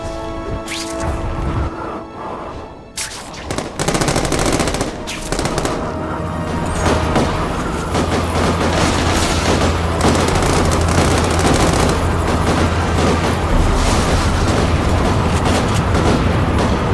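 Sustained heavy gunfire and crashing explosions in The Amazing Spider-Man 2 video game, loud and continuous bursts with booms, dense and close throughout.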